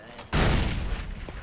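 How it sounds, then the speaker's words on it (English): A video-game explosion in Far Cry 4 bursts suddenly after a short quiet lead-in, a loud, close boom that rumbles and decays over about a second. "You just time the explosion, you know?"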